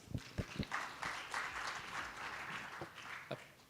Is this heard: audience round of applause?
yes